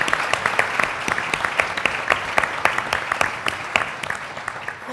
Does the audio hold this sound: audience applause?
yes